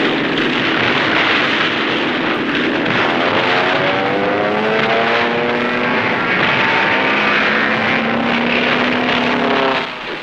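A 1944 warplane attacking the island of Tarawa during the Marine assault, a loud continuous propeller engine roar whose pitch sweeps and bends as the aircraft passes, with no voices.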